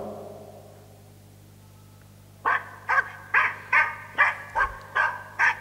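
A recorded dog gives a series of about eight harsh, rapid, deep barks in a steady rhythm, loud and close, following a quiet stretch of faint hum.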